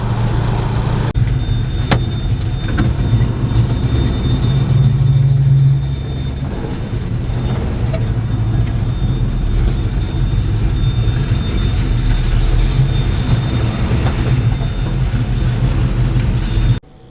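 A 1970 Chevrolet C10 hot rod truck with a new clutch runs and drives, its loud, low engine rumble steady and close, with a short surge in revs before it settles into a continuous drone.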